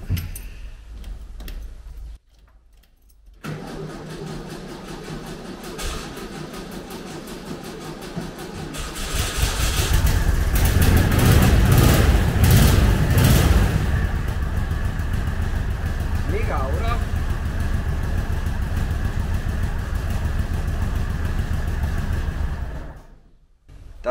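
Cold first start of a 6-volt Karmann Ghia Type 34 engine: a few seconds of cranking, then it catches and runs at a steady, loud, rough note before cutting off near the end.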